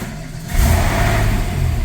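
A Porsche 993 engine rises from a steady idle-like hum into a louder, throatier rev as it accelerates, close up and sustained, with no voices.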